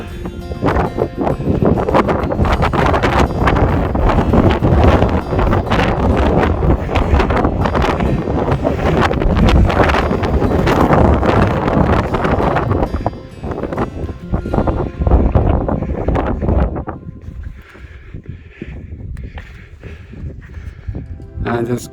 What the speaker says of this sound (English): It's windy at the summit and just come off the summit to get out the wind.